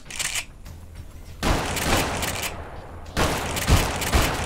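Shotgun blasts in Fallout New Vegas during a cave fight, loud booming reports with long noisy tails, two or three heavy shots spaced about a second or two apart.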